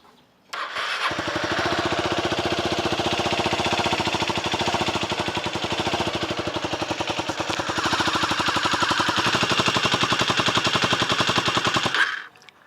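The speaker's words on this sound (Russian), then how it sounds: "Немного поработал двигатель на холостых и заглох." A Leonart Daytona 125 chopper motorcycle engine, with a carburetor suspected of clogged jets, catches abruptly and idles with a loud, rapid, steady putter for about eleven seconds before cutting out and dying.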